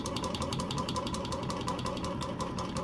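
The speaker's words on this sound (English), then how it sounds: "it is just literally a running engine" A Lake Breeze hot air engine runs steadily up close, giving off a continuous mechanical hum overlaid with fast, regular ticking and clicking from its moving piston and displacer rods, with no talking.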